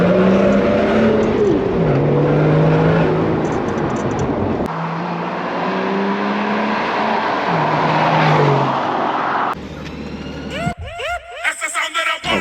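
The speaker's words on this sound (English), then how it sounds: "with the manual you can play with it. Yeah, it's a big car, but you can and you can get more of the top end kind of sounds." A manual BMW 5 Series engine revs repeatedly up and down through its range close by, rising and falling pitch sweeps, with the car moving and a brief harsher burst near the end.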